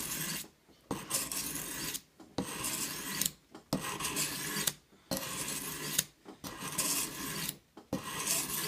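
A knife blade is drawn in repeated strokes across an oiled whetstone, each rasping pass about a second long and separated by short pauses, close and steady with no talking.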